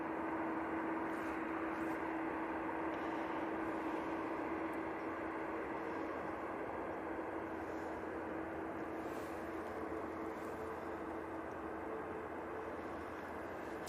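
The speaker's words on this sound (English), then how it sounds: "next out will be the Jet2 A321 going to Rome" A Jet2 Airbus A321 taking off from Manchester Airport, bound for Rome: a steady, broad engine roar with a constant low tone, held at even loudness throughout and fairly distant.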